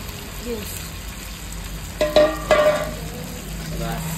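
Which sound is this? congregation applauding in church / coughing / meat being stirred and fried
meat being stirred and fried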